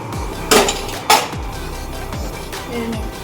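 A metal lid lifted off a cooking pot of mutton, with two sharp close clanks followed by quieter scraping and handling as the meat goes into a bowl; no talk.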